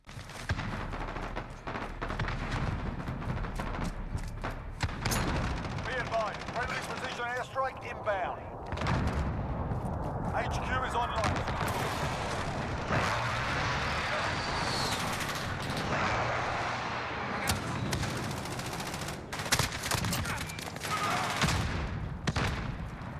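Rapid bursts of AK-15 rifle fire in Call of Duty Modern Warfare crack out loud and close, with repeated automatic volleys, scattered explosions and occasional game voices in the mix.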